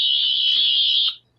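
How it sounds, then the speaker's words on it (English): A 14th Doctor sonic screwdriver toy in its secret green setting gives a single loud, steady high-pitched electronic whine lasting about a second before it cuts off, alone with no talk. "you get the first secret sound effect."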